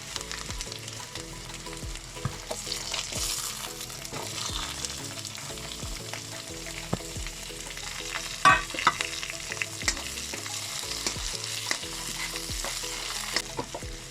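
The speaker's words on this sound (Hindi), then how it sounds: "अभी हमने लहसुन और अदरक का पेस्ट डाल दिया है। इसके ऊपर अभी हम डालेंगे गाजर।" Carrots sizzle in a pan over garlic and ginger paste for a chicken pasta dish. The frying hiss is steady and close, with periodic stirring scrapes and soft music underneath.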